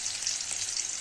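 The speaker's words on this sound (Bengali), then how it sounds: "আলু আর পেঁয়াজটাকে ভেজে নেব।" Potatoes and onions fry in oil in a pan, giving a brief, steady, close sizzling hiss with no voices.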